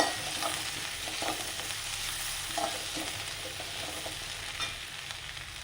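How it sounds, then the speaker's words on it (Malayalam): Onions, garlic, ginger, curry leaves and green chillies fry in a pan for a chicken curry, giving a steady close sizzle with occasional stirring scrapes and no talk. "ഞാൻ ഒരു 4 ചെറിയ സബോള അരിഞ്ഞ് അതിൽ വെളുത്തുള്ളി, ഇഞ്ചി, പിന്നെ കറിവേപ്പില, പച്ചമുളക് ഇട്ടിട്ട് ഞാൻ മൂപ്പിച്ചെടുക്കുകയാണ്"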